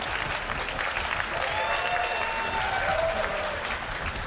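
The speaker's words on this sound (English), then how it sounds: "I get applause for inversion. I get applause for playing bad." Audience at Quakecon applauds during a live Doom Eternal game demo, a steady wash of clapping heard at moderate distance, swelling slightly midway.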